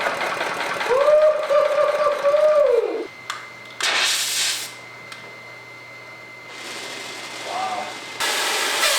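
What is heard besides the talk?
triatomic water engine running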